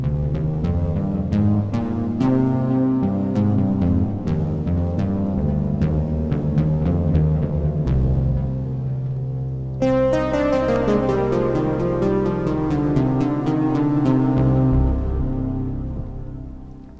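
A metallic, bell-like Omnisphere synthesizer tone using ring and FM modulation, with clangorous, inharmonic overtones, plays a repeating pattern of notes, shifting to a brighter, denser texture partway through.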